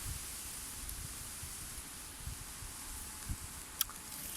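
Wind blows steadily outdoors as a constant hiss, with occasional low gusty buffets and a faint click near the end.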